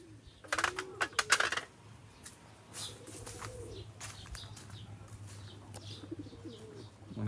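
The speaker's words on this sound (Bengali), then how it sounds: "অনেক কবুতর।" Many pigeons coo quietly around a house garden, with a brief burst of sharp wing flaps and clicks near the start, then soft, repeated cooing throughout.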